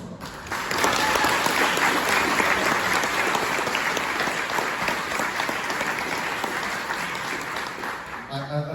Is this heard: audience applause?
yes